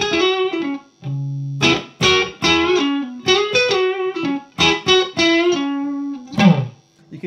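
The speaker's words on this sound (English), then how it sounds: "I'm playing through just the classic reverb to start." Electric guitar played through a Two Rock amp on its classic reverb channel with the bright switch on: short clean phrases of single notes and chords, each ringing out, with brief gaps between them.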